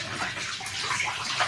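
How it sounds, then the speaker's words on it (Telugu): Water splashes and runs continuously over raw chicken being washed in a basin, a brief, close, steady sloshing. "1 kg చికెన్ తీసుకొని శుభ్రంగా కడుక్కోవాలి."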